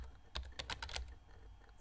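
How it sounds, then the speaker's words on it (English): A handful of quick computer keyboard keystrokes click in a short burst in Emily is Away Too, close and crisp over a quiet background, with one more tap at the end. "I feel like I'm typing fast."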